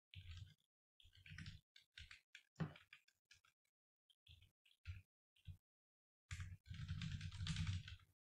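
Bursts of typing on a computer keyboard while writing JavaScript code, quick clusters of close key clicks broken by short pauses, ending in a longer steady run, with no voices.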